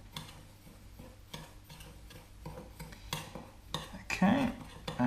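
Cumin, pepper and salt being stirred into tofu scramble in a pan, a string of irregular clinks and scrapes of a utensil against the pan, getting louder and busier toward the end.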